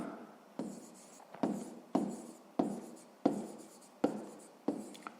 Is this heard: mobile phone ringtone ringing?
no